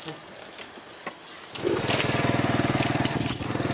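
A Suzuki DR350SE motorcycle engine runs after a carburetor rebuild, settling into a steady, rapid close idle putter after a few seconds of handling noise and knocks.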